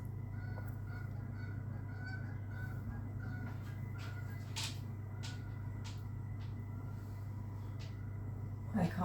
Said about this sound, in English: Oh, we can hear the geese.